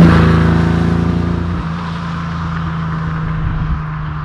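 A 1968 Ferrari 365 GT 2+2 "Queen Mary" V12 engine runs steadily close by, a loud, smooth low drone with a rich hum that eases slightly after the first second and then holds even.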